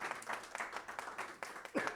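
A concert audience at Georgia Southern University claps after a performance, a loose patter of scattered hand claps, moderately close and thinning out, with a brief voice near the end.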